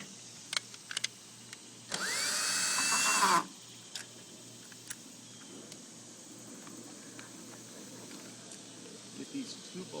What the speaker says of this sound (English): get these two bolts off that hold the front of the gas tank down.